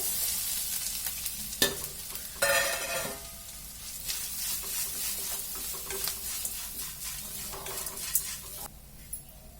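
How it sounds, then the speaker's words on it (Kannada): Grated coconut stirred into a pan of coconut rice bath with the gas turned off, giving steady soft scraping and a faint sizzle, with a few sharper clinks of the spoon against the pan and no talking. "ಈಗ ತೆಂಗಿನಕಾಯಿ ಸೇರಿಸ್ಕೊಳ್ಳೋಣ ತುರಿದಿರೋದು"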